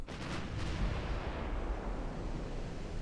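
Warship guns boom in the naval battle game Ultimate Admiral: Dreadnoughts, heavy artillery reports rolling into a thick, sustained rumble that stays loud throughout.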